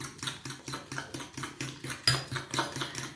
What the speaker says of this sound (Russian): Тоже хорошо это размешиваем.